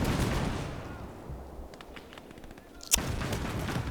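A single sharp cannon shot cracks out near the end amid scattered distant gunfire and a rumbling battlefield din in the winter-set strategy game Call to Arms: Gates of Hell.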